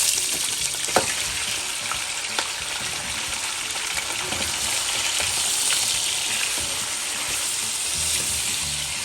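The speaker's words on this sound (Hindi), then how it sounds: "इस ऑयल में जिसमें हमने प्याज ब्राउन किया था, इसमें हम ये अपना गाय का गोश्त डालते हैं" About 1.5 kg of beef meat added to hot oil with browned onions, a loud, steady, close sizzle of frying with occasional small pops and stirring.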